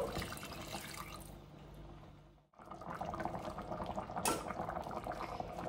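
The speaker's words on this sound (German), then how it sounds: "Und ich habe hier noch Rinderfond. Das sind 300 Milliliter. Die geben wir auch noch dazu." 300 ml of beef stock pours into a stew pot of boeuf bourguignon, a continuous liquid rush that breaks off briefly and then resumes as a bubbling, splashing flow.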